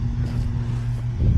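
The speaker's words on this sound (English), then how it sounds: "Sorry about the lawnmower noise." Lawnmower engine running nearby, a steady low droning rumble throughout that swells slightly toward the end.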